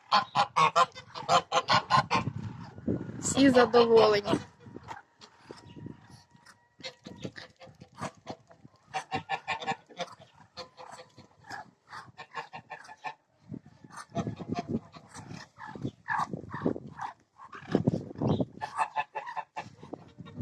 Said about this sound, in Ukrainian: Ось вони в мене зараз тут всі і гуси, і качки.